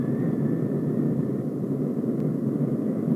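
A jet aircraft engine run to full military throttle, with a loud steady broadband roar heard from inside the cockpit and a faint whine above it.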